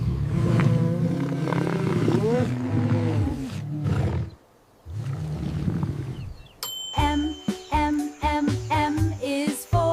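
A lion roars in a loud, sustained burst with a brief pause, and then bright chiming bell-like tones come in.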